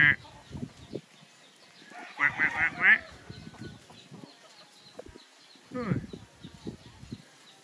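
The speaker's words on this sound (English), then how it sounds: "It's a duck." Short bursts of duck-like quacking come in two clusters, with quieter voices talking around them.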